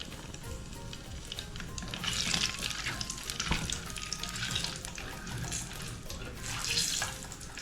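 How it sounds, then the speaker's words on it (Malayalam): Mustard seeds frying in hot oil for a Kerala-style spicy tuna fish curry, giving a steady close sizzle with crackling bursts throughout, no talking. "കടുകും ആഡ് ചെയ്യുക. രണ്ടും കൂടി എണ്ണയിൽ കിടന്നിട്ടൊന്ന് മുരിഞ്ഞു പറ്റും."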